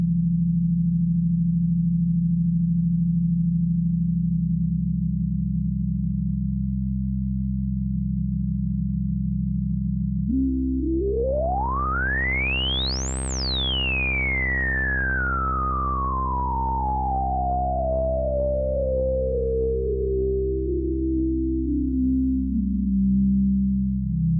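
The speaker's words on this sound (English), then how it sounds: "now I'm going to start bringing in some drive as well." ASM Hydrasynth synthesizer bass with drive: a steady buzzing, harmonic-rich tone holds, then a resonant filter sweep rises to a shrill singing peak and slowly falls back down, loud and alone.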